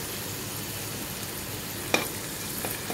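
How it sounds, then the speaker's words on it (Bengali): Ginger fries lightly in a pan for paneer tarka, a soft, even sizzle with a brief clink of stirring near the middle. "আদাটা দিয়ে একটু হালকা ভেজে নেব এইভাবে।"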